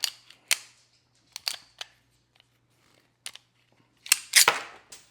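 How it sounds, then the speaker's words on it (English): Sharp metallic clicks and snaps come in scattered bursts with quiet gaps between them as a Tisas 1911 Government pistol is taken apart by hand, with a final cluster of louder rattling clacks. "All right, I'm gonna break this thing down right now."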